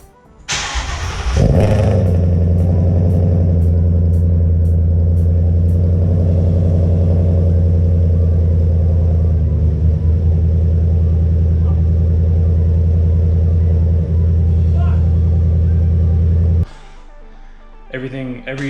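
A car engine cranks and fires with a sharp start, then settles into a loud, steady idle rumble with a new exhaust being checked for leaks, before cutting off near the end.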